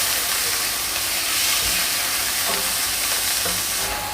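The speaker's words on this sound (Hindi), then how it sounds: "मैंने यहाँ पे चिकन का कीमा लिया है। 2 मिनट के लिए इसको फ्राई होने देंगे।" Chicken mince fries in hot oil in a pan with a loud, steady sizzle and hiss, with occasional stirring scrapes, close and continuous with no talking.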